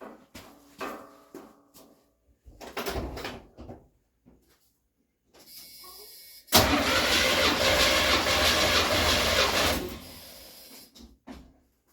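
A Chevy 305 in a square-body truck cranks during a compression test, a loud sustained cranking whir lasting about three seconds, preceded by softer clunks and rattles of setup.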